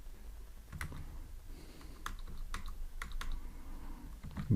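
Keys on a computer keyboard click in irregular bursts, short sharp taps scattered over a low background hum, close and fairly quiet.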